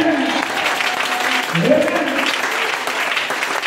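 Steady applause from a church congregation, with a voice briefly audible over the clapping.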